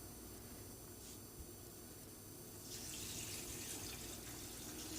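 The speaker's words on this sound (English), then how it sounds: "I'm going to add another gallon of water." Water pours steadily into a bucket for washing clothes, its splashing growing fuller and brighter partway through, heard close and alone.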